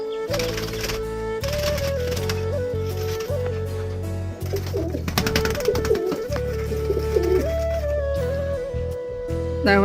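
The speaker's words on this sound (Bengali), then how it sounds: "দেখো ভাই পায়রা, দুটোই ঝুটি পায়রা একবারে।" Crested Giribaz pigeons cooing close by in repeated soft throaty phrases, with rapid clattering taps and other bird calls mixed in, no talk.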